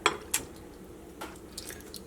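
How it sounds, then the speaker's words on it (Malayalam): Pieces of beef go into a pressure cooker for a chilli beef dish, giving a couple of sharp metallic clinks followed by softer wet thuds and scrapes, close and fairly quiet. "അപ്പോൾ ബീഫ് വേവിച്ചിട്ട് എടുക്കാൻ വേണ്ടിയിട്ട് കുക്കറിലേക്ക് ബീഫ് ചേർക്കാം."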